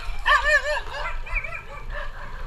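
A dog yelps and barks in several sharp, high bursts at a roadside in Kamiling, Tarlac, during a motorcycle ride, with steady wind and road rumble underneath.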